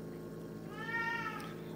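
A pet cat meows once, a short clear call rising over a steady low background hum, fairly close and alone without talk.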